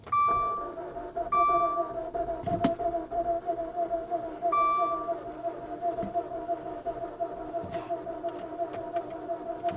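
An Infiniti G37s with a manual gearbox, sold as a run-and-drive car at an auction yard, has its fuel pump humming in a steady, even drone. Short electronic beeps cut in now and then, and a few brief knocks are heard.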